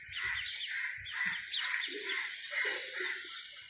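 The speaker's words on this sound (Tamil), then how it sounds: "இங்கே பாருங்க பறவைகள் பறந்து போகுது." Several birds in a tree call with bright, overlapping chirps and tweets, a busy close chorus with a few lower squawks mixed in, no talking.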